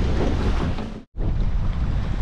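A sailing boat moves on the Clarence River in fresh wind and waves, with a steady, loud rush of wind and water broken by a brief silent gap.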